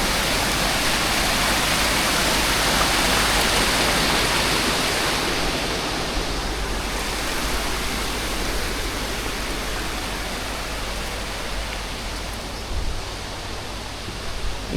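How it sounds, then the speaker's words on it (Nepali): Small mountain stream in the Jugal Himal wilderness, a dense continuous rush of flowing water, loud and close, easing slightly toward the end. "यहाँ चाहिँ है सानो खोला धेरै ठुलो त होइन सानो"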